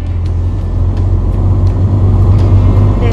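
A truck hauling 480 loaded beehives on a long overnight drive in northern Victoria, Australia gives a steady, loud low engine drone and road rumble from inside the cab, with faint periodic ticks above it.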